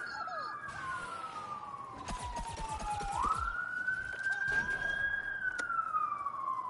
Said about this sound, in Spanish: viene la ambulancia por Byron.